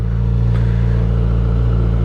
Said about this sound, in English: Already I can tell this engine is butter smooth. Definitely firing on all four.